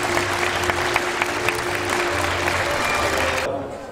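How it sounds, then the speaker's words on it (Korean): Loud audience applause at a public event honoring a provincial governor, continuous dense clapping with a low background hum, fading and thinning near the end. "다시 한번 큰 박수 부탁드리겠습니다"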